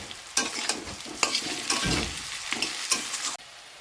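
Marinated meat sizzling in a hot pan while being stirred, with a steady frying hiss broken by repeated scraping and clattering stir strokes, close and clear with no talking.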